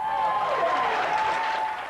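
Dozens of enthusiastic hopefuls at Wheel of Fortune contestant tryouts cheer and applaud, a dense, steady wash of clapping and crowd noise throughout the short burst.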